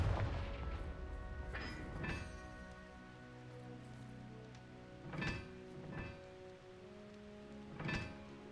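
Confringo blasting spells bursting in Hogwarts Legacy, several sharp broadband blasts at irregular intervals over a low, sustained magical hum and tonal music bed, fairly close and moderately loud.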